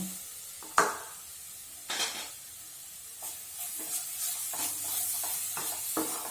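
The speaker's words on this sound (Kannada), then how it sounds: "ಏಲಕ್ಕಿ ಪೌಡರ್ ಹಾಕಿ ಚೆನ್ನಾಗಿ ಮಿಕ್ಸ್ ಮಾಡಬೇಕು." Coconut burfi mixture with cardamom powder stirred in a pan, a sharp clank of the spoon at the start, then low bubbling sizzle with repeated scraping strokes growing busier, close and quiet.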